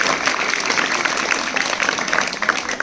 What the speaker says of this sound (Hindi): इसके लिए भी जोरदार तालियां एक बार।